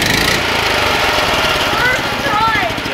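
A small Harbor Freight engine on a homemade go-kart runs loud and close after starting on the first pull, with a continuous buzzing putter throughout.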